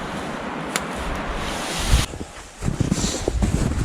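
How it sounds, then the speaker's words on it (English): Gusty winter wind roars and rushes through trees, rising into a strong blast then dropping briefly before surging again, with buffeting noise on the microphone. "there have been some pretty good wind gusts"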